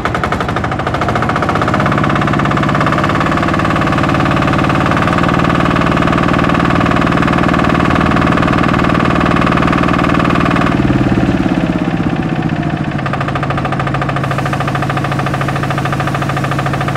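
A Yanmar NF80 diesel engine on a YA80 large-wheel tiller rig runs steadily and loudly up close, with a rapid knocking chug that holds throughout, its tone shifting slightly partway through.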